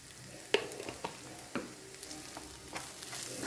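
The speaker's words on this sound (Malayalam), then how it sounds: "ഇനി നമ്മുടെ സവാള എല്ലാം നല്ല വഴണ്ട് നല്ല കളറായിട്ട് വന്നിട്ടുണ്ട്" Onions sizzle quietly in a pan with turmeric and chili powder for a Kannur-style seer fish curry, a soft steady frying hiss broken by a few sharp scraping stirs.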